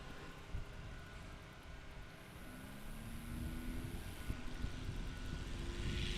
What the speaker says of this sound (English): He's here mostly to have fun in this thing and show us a good time with a biplane flying around